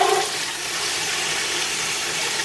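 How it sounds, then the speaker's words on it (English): Tap water from a faucet, partly blocked by a finger, sprays hard onto an air filter being rinsed, giving a loud, continuous hiss with no break. "I would just put my finger over the faucet and then just squirt it down onto the filter"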